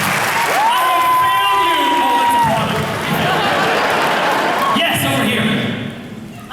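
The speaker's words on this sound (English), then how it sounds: "Applause." Studio audience at a talk show applauding and cheering under loud music and a sustained tone, the clapping a dense wash that stays heavy before cutting off near the end.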